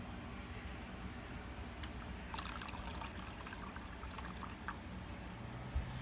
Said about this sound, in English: fill the rest up to the 16-ounce line, so to this line right there with water